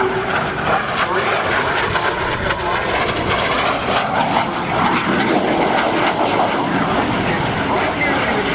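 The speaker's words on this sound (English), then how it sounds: "and of course this F-86 Sabre jet" An F-86 Sabre jet passes at an airshow with a loud, continuous roaring engine rush that fills the scene, while an announcer talks over it.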